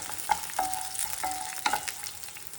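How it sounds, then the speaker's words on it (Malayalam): Fennel seeds, peppercorns, cloves and a small piece of cinnamon stirred in a pan, giving a brief close sizzle with a few sharp spoon clinks and scrapes against the metal. "ഇതെല്ലാം കൂടെ ഒരു 1 മിനിറ്റ് വീണ്ടും ഇളക്കാം"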